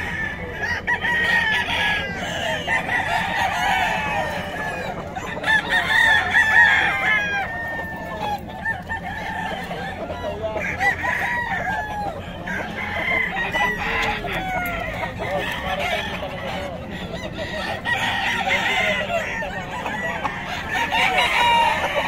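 Several chickens cluck and crow continuously, with roosters crowing repeatedly over a busy, noisy flock close by.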